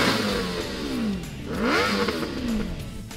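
A Formula Student race car's engine revs hard during an exhaust noise test, rising and falling in two surging pulls, loud and close with a rasping exhaust.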